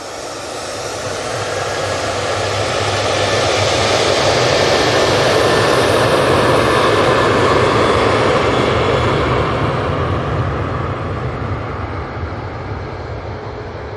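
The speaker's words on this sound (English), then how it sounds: "TUI now lined up, ready to go." A TUI jet airliner bound for Funchal takes off from Manchester Airport, its engine roar building from moderate to loud and peaking mid-run, with a whining tone over the broad rush before it gradually recedes.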